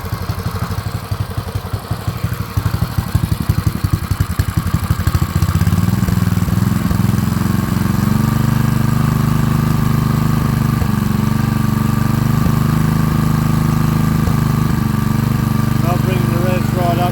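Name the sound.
revived seized Honda engine running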